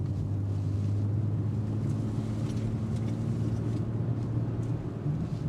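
2025 BMW X3 M50 cruising on winding roads, a steady low engine drone with road and wind rumble running unbroken and fairly loud throughout, no voices.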